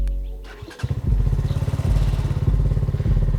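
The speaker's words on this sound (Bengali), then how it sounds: "সেটা আপনি যদি চান বাইকটাতে স্টার্টও করতে পারবেন" A Speeder NSX 165R V3 motorcycle starts with a brief cranking whirr, then its engine catches and settles into a loud, close, steady idle with a quick pulsing beat.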